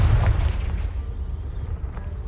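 A fiery Confringo spell blast in the Hogwarts Legacy video game, a loud deep boom that rumbles and fades over a couple of seconds, with a few faint crackles in the tail.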